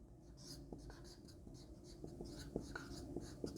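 Chalk or a marker scratches and taps across a board during a language lecture, giving a quiet, irregular run of short strokes in a room that is otherwise still.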